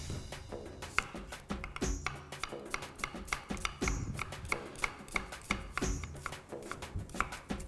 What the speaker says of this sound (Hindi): प्याज चॉप हो रहा है